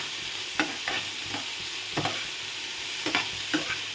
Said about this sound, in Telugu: చూడండి ఇట్లా పచ్చివాసన పోయేదాకా ఇట్లా వేయించేసుకోవాలి